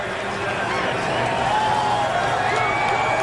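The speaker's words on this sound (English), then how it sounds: "Listen to the crowd." Large crowd in the grandstands at the Indianapolis Brickyard 400 NASCAR race roars in a dense, sustained wash of cheering, with a commentator's voice running over it.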